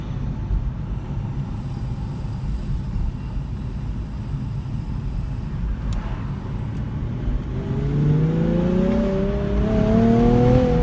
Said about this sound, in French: Un petit Z3 rouge.